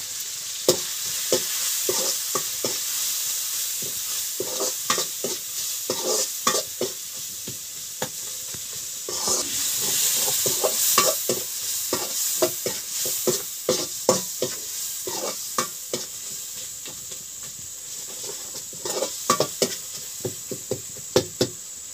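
Mixed masala is stirred into tomatoes frying in a pan for Odisha dalma, with a steady background sizzle and repeated spoon scrapes and knocks against the pan, close up and without talk.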